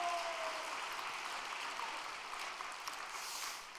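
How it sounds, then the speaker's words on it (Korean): A congregation at a church gathering claps together in sustained applause, an even, crowded patter that fills the room and tapers off slightly at the close. "우리 박수를 한번 올려주시면"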